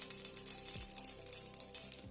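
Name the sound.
oil sizzling in a frying pan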